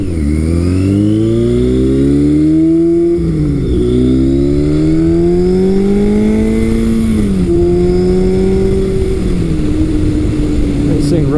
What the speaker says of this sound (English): And if I'm anything above 16th throttle, this thing pulls very nicely.